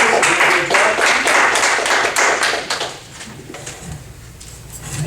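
A small audience claps together during a Table Topics speaking meeting, a dense patter of hand claps that is loud at first and then thins out and fades over a few seconds, with no one speaking.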